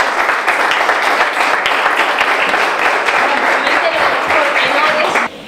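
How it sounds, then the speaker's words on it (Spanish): Dense, loud audience applause at a chef training award presentation, a continuous wash of clapping that holds steady for about five seconds, with voices mixed in, before dropping off sharply at the end. "yo quiero darte la palabra con su aplauso,"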